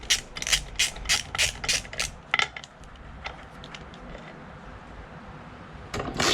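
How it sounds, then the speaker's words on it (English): A 13 mm ring wrench working the rear sprocket bolts on a KTM 790/890 Adventure R gives a quick run of about ten sharp metallic ratchet-like clicks. A brief pause follows, then a few fainter ticks and one more close click at the end. "a 13 ring wrench to remove the rear sprocket"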